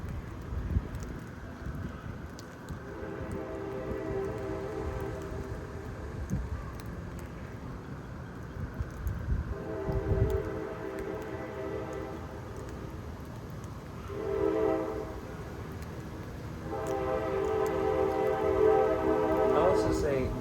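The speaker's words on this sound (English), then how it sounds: "people comment like the sound of the train horn" A train horn sounds in several long blasts during a Houston lightning storm, separated by gaps of rumbling rail noise, fairly distant and moderately loud.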